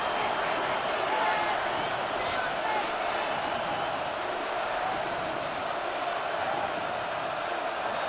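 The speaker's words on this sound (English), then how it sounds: "The crowd cranking it up another notch before 3rd and long." Stadium crowd in Madden NFL 26 roaring steadily during a late-game third and long, a dense, far-off wash of cheering that rises slightly and holds.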